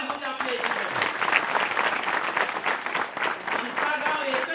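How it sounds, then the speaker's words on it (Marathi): An audience at a village Maghi Ganesh Jayanti festival claps loudly and continuously, a dense close burst of applause with voices faintly mixed in. "एकदा जोरदार टाळ्या होत्या आपल्या इथे."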